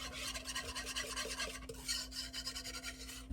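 A whisk scraping steadily through cream and powdered spices in a pot before the heat goes on, making a fast, close rasping swish that repeats in rhythmic strokes, with a steady background hum.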